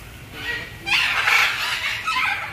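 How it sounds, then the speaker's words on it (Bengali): Blue-and-gold and scarlet macaws at a zoo give harsh, raspy squawks, two loud screeching calls close by, the second long and drawn out, over quiet background. "এই দেখো অনেকগুলো আছে, স্কারলেট ম্যাকাও আছে দেখো। এই দেখো ব্লু অ্যান্ড গোল্ড"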